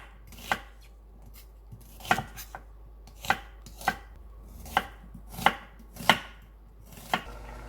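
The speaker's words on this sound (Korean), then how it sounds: "양파는 반으로 잘라서 밑동에 뿌리 부분을 잘라주고 채 썰어 줍니다" Knife chopping an onion into thin strips on a cutting board, about nine crisp evenly spaced cuts in a slow steady rhythm, close and clear with no talk.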